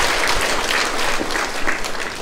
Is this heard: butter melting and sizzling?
no